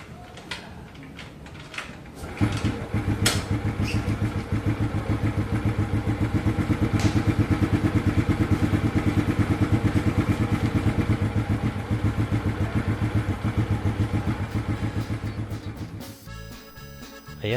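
A Monarch Axis 125 motorcycle engine is turned over after an oil change and air filter cleaning. A few sharp clunks come first, then a long, steady mechanical churning that swells and fades before stopping.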